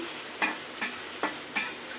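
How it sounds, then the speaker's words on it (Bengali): Onions frying in a pan, four evenly spaced scraping strokes of a spatula stirring them over a soft, steady sizzle, close and fairly loud. "মানে পেঁয়াজটা ভাজা হবে"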